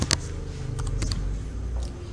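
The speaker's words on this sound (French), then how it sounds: "Je tape égal de mon clavier" Typing the equals sign on a computer keyboard: a few sharp, close key clicks, one near the start and a cluster around the middle, with quiet room noise between them.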